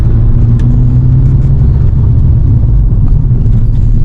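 A Mk5 Golf GTI with DSG gearbox drives along, heard from inside as a loud steady low engine and road rumble with no talking.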